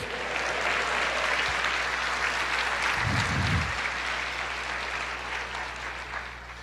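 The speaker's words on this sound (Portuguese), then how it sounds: "aplauda o Senhor" A church congregation applauding during a sermon, a loud, sustained wash of many hands clapping that holds steady for several seconds, then eases slightly at the end.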